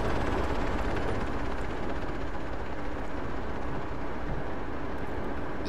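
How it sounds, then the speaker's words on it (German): Helicopter in the military shooter game ArmA 3: a steady, dense, roaring rotor and engine drone holds at constant loudness, with faint crackles of distant action mixed in and no speech. "Heli."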